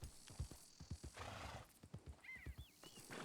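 Horse in the Red Dead Redemption video game gives a nearby whinny and snorts, with clip-clop hooves and other game sounds and a brief high bird-like call.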